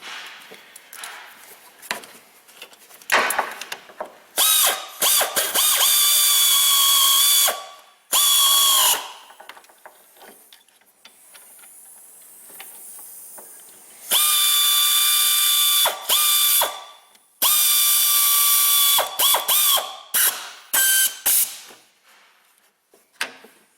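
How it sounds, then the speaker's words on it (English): Ratchet torque wrench tightening EGR bolts into aluminum on a Dodge Caravan, loud rapid clicking in several bursts separated by short pauses, close up with no talk. "Get her all torqued down."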